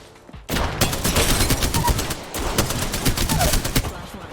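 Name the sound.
gunfire in the video game Apex Legends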